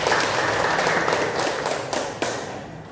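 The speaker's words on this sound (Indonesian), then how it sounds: "Tepuk tangan untuk kita semua." Applause fills a classroom after a plant identification lesson, a dense wash of clapping hands that thins and fades toward the end.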